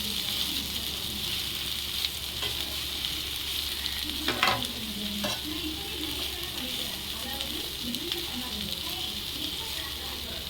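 Broad beans (avarakkai) sizzle and fry in a pan for a prawn poriyal, a steady bright crackle with a few louder stirring scrapes near the middle.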